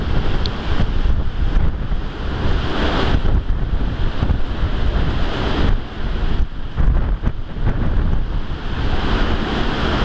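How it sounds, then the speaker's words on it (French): During cyclone Batsiraï a strong wind blows outside, loud gusting rushes that swell and drop off for short moments, heard at full strength with no voices. "Et là comment le vent il souffle dehors."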